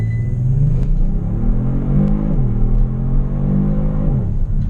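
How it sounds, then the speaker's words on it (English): A 2022 Kia Stinger GT2 sedan launches hard with launch control, its engine rumbling loudly and rising in pitch, then dropping at gear shifts before climbing again, heard from inside the car with no talking. "Launch control again."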